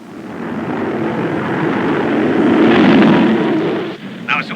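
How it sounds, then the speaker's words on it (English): A squadron of executive jets overflies a marine base, a steady broad roaring rumble that swells to a peak near the end before cutting off, with a brief voice-like burst at the close. "Marineville Executive Jet Squadron overflying Marineville"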